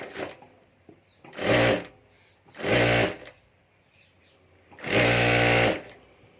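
A sewing machine stitches a folded strap on a homemade hand bag in three loud, close bursts, the last one longest, with quiet pauses between them.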